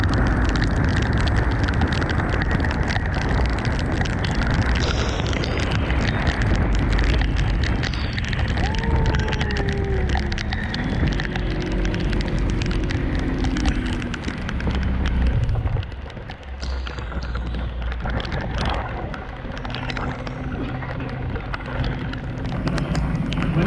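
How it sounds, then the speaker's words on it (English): Heavy southern rain pours at Lake Guntersville, a loud, dense, continuous hiss and crackle of drops hammering nearby surfaces, with a few faint tonal sweeps partway through and the downpour easing slightly in the later half. "When it rains in the south, It rained."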